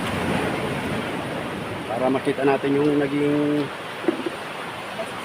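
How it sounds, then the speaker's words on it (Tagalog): Big ocean waves breaking on a beach after a typhoon, a steady broadband roar of surf close by, with someone talking over it partway through. "malaki pang alon oh"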